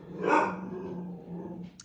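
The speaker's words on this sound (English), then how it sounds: "I have not been able to get Lou to stop barking" A single loud dog bark rings out close by, trailing into a low growl that fades over the next second.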